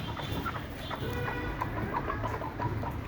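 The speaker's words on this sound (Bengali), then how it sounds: "এই যে ভিতরে একটা ডিম পারছে" Free-range desi hens on a small farm cluck near the microphone while one lays an egg indoors, with a steady background hum and faint scattered clucks over about three seconds.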